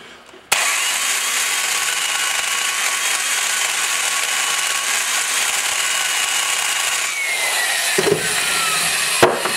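A valve seat cutter grinds a 30-degree angle on a 1973 Volvo 1800 cylinder head, a loud, close, steady whirring grind that starts abruptly and runs continuously with a couple of brief knocks near the end.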